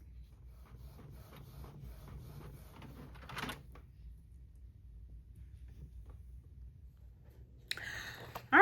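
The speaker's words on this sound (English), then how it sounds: "here is the inkjet printer that I have right here. It's the Canon" Canon inkjet printer at work, faint soft mechanical whirring and shuffling of the print carriage across several seconds, with a short louder burst of clatter near the end.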